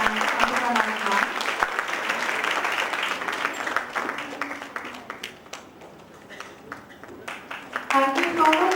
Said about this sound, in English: Can we have a big round of applause for Sir and Ambika Nag?